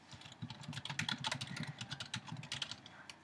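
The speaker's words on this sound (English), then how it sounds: "let me just type in something like," Rapid clicking of a computer keyboard as someone types a short phrase while setting up a website page, close and fairly quiet, a steady run of keystrokes with no talking.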